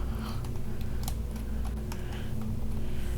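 Keys clacking on a computer keyboard as a rocket name is entered for a Kerbal Space Program craft, scattered light taps spread over a few seconds above a steady low game hum.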